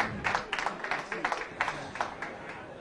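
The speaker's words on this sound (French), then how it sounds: "je vous demanderai tous d'applaudir en sa mémoire" A modest audience claps in memory of Count Bertrand de Tarragon at a horse racing awards ceremony, scattered uneven hand claps, fairly close and moderately loud, with some voices mixed in.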